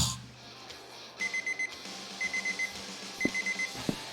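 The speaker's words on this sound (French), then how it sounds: "Oh, le réveil du diable qui sonne." An alarm clock rings in short repeated bursts of four or five beeps, with pauses between the groups, heard during a GTA 4 game session over low background hum.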